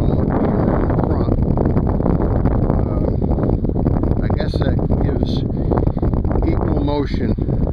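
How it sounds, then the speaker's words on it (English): Steady low wind roaring and buffeting across the microphone outdoors, with faint voices breaking through now and then. "It's pretty cold out here, pretty windy."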